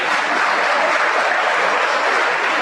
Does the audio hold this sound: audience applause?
yes